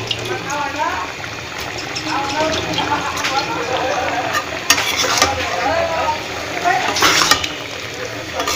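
Hilsa fish pieces go into a hot pan and fry with a continuous sizzle, while a spoon stirs with occasional scraping clinks, all under someone talking.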